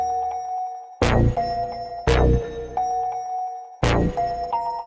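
A notification bell chimes three times, each ding ringing out cleanly and fading, spaced about a second apart, with no voices over it.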